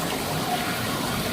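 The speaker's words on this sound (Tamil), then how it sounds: "அதை கூல் பண்ண தண்ணி ஊத்திட்டு இருக்குதுங்க." Water steadily pouring and splashing over freshly extruded PVC pipe to cool it inside a pipe-making machine, a continuous close hiss with no pause and no voices.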